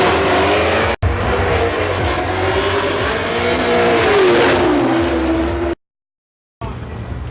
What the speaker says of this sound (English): It's a lot of fun to watch those guys slide the cars around with total and utter control and just kick up smoke and dust everywhere